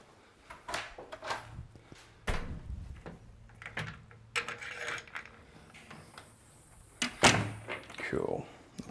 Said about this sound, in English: Just going to open this door really quickly because the wind did get a hold of it.